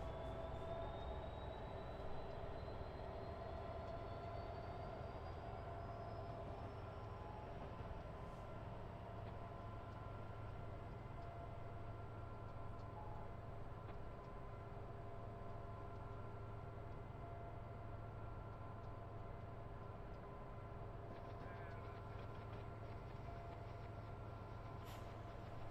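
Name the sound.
train climbing Sullivan's Curve on Cajon Pass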